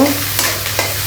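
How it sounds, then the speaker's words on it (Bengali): Green chillies, chopped garlic and spices frying in a pan for hilsa curry are stirred, giving a loud, close sizzle with a couple of quick scraping strokes over about a second. "এবার এটা আমি নেড়ে দেব।"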